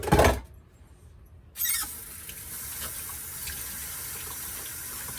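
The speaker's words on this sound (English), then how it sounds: "I'm going to wash these real quick. Give them a quick rinse." Mushrooms rinsed under a running kitchen tap: a brief burst of water at the start, then after a pause a steady, close stream of faucet water runs continuously to the end.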